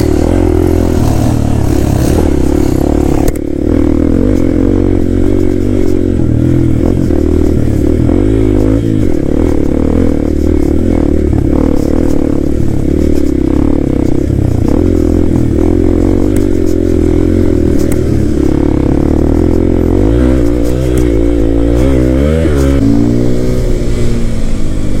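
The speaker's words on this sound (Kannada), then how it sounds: "ಇಲ್ಲೊಂದು ಆಫ್ ರೋಡಿಂಗ್ ಇದೆ, ರೋಹಿತ್ ಅವ್ರು ತೊಗೊಂಡಿದ್ದಾರೆ ಗಾಡಿನ" A Hero Xpulse 210 motorcycle ridden off-road, its mid-pitched engine droning loud and close throughout, rising and falling with throttle over clattering and scraping from rough terrain.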